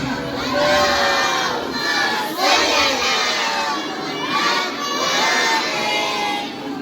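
A large crowd at a 13 Rajab gathering honoring Hazrat Ali loudly recites salawat in unison, many voices chanting together in rising, repeated phrases.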